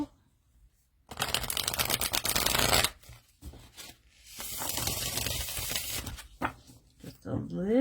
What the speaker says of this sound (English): Ripple shuffle.